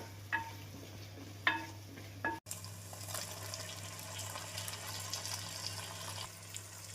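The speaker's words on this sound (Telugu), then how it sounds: "వాసన పోయేంత వరకు మిక్స్ చేసుకోండి" Onion, garlic paste, turmeric, curry leaves and dried red chillies are stirred in a hot pan for chole, giving a steady faint sizzle with a few soft scraping strokes early on.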